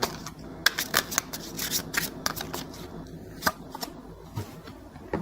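Tarot cards being shuffled and drawn from the deck: crisp riffling slaps and papery flicks in irregular bursts, close and moderately loud, with no talking.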